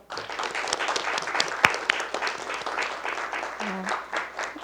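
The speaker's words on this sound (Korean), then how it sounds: "모두 힘찬 박수 한번 보내주시죠." Audience applause breaks out at the launch ceremony of a political reform committee, a sustained wash of clapping from a seated crowd that carries steadily for several seconds with a brief voice heard over it.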